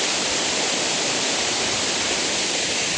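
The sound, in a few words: Mayton Falls waterfall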